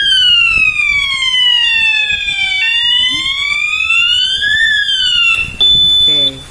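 A fire detection and alarm system panel buzzes and wails loudly, its electronic tone sweeping down and up repeatedly before shifting to a steady beep near the end, with no talking.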